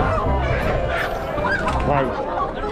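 Live poultry at a market in Saudi Arabia, a continuous dense mass of squawks and honking calls close by, with people talking over the flock.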